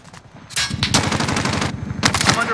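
In a video game, bursts of automatic gunfire crack out close and loud. Rapid, rhythmic volleys come in two main runs separated by a brief pause, with fainter shots at the start.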